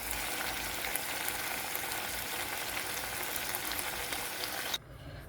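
Onions fry in a pan with salt, making a dense, steady sizzle that holds loud and even, then cuts off abruptly just before the end, leaving a quiet low hum.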